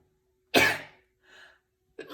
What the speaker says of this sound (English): I'm sorry, I'm about to sneeze.